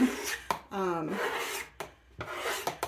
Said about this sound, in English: scrape this and start over